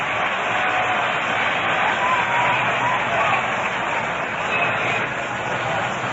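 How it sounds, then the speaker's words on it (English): Crowd at a 1962 World Series game between the Giants and Yankees applauds Willie Mays coming to bat, a steady wash of distant clapping and crowd noise under a broadcast voice. "Big round of applause for Willie as he comes on."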